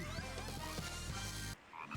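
A frog croaks in the Sonic Adventure DX video game, with several close, deep, throaty croaks in quick succession, then a short quieter stretch and a final croak.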